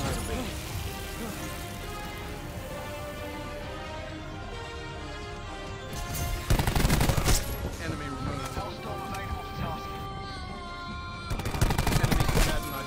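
Gunfire crackles through a gunfight in a first-person shooter video game, with two dense, loud volleys of rapid shots over constant background game noise while a player talks.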